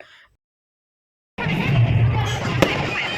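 Firecrackers bursting at a large temple festival (yatra) for Shri Siddheshwar in Karnataka: after a silent gap, a loud, dense crackle erupts suddenly and continues, with one sharp bang standing out near the end.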